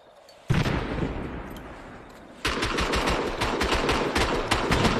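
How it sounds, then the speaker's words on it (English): Gunfire in a video game tournament match, bursts of rapid automatic shots, one sustained spray followed by a denser stuttering rattle of repeated shots, fairly quiet in the mix. "Berta laying down cover fire"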